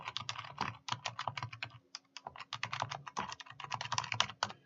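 Rapid, uneven keystrokes on a computer keyboard as a web link is typed, clustered in quick bursts with short pauses, close and fairly quiet with no talking.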